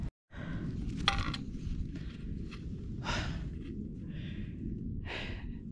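Heavy, ragged breaths and sighs come in bursts from a hiker climbing toward the 3610 m Barrhorn summit in the Alps, close to the microphone over a constant rumble of wind.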